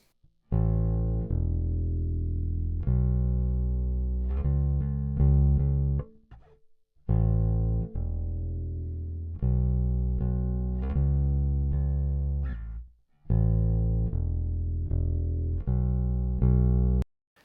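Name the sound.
bass guitar verse section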